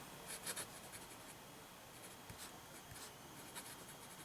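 A Waterman JIF fountain pen with a fine nib scratches faintly across paper in short close strokes and light taps, very quiet with a steady background hiss and no talk.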